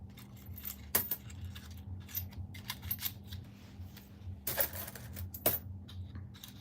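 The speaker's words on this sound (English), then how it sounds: "Nice, easy listening rolling of coins." Soft metallic clinking and rustling of coins being handled and rolled, with occasional sharper jingles, close and fairly quiet.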